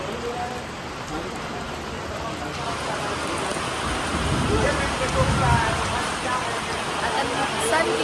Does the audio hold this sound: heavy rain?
yes